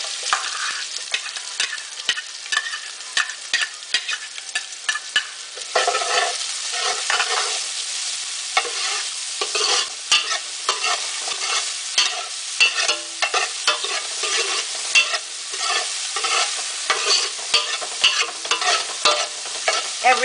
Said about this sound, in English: So the garlic's brown. Now I'm going to add the onion.